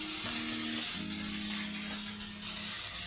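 Egg cubes go into a pan with soy and tomato sauce for chilli egg, giving a constant close sizzle with a faint humming tone running underneath.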